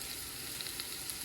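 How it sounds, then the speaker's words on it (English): Onions sizzle steadily in a hot pan, a constant bright crackle close up with no talking. "Frying the onions"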